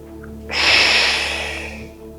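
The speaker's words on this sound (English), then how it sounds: "Breathe in." One deep breath drawn in through the nose during an exercise, loud and close, building quickly and then easing off over about a second and a half against a faint steady hum.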